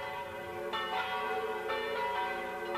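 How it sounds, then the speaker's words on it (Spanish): Church bells of Rome ring out steadily, a dense wash of overlapping bell tones with fresh strikes landing every second or so, fairly loud and with no voices. "las campanas de la iglesia de la ciudad de Roma proclamaron a Alejandro Borgia como el nuevo"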